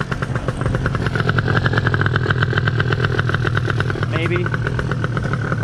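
A Gilera Runner 180cc scooter fitted with a new carburetor idles close by with a steady, throbbing putter that runs throughout, while someone talks over it.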